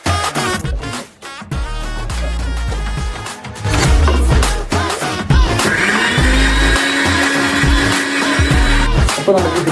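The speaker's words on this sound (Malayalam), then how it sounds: "നമുക്ക് ഇഞ്ചി ഒന്ന് പേസ്റ്റ് ആക്കി എടുക്കണം" A mixer grinder whirring loudly as it blends ginger into a paste for a Kerala-style king fish fry, the motor surging and revving in bursts, near and with no voices.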